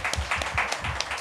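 A small group in a talk-show studio claps briefly, a short run of distinct, fairly crisp hand claps close to the microphone.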